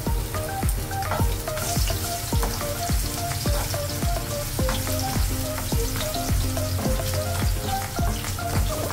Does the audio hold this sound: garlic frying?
yes